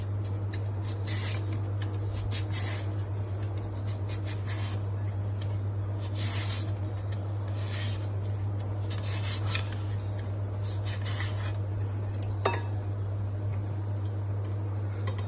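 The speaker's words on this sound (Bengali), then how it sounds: "পাতলা পাতলা করে স্লাইস করে নেবো।" Potatoes for chips are sliced thin on a sharp slicer, giving steady repeated rasping strokes over a constant low hum, close and even throughout.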